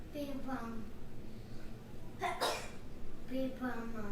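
A single sharp sneeze bursts out midway, surrounded by quiet, indistinct voices in a room.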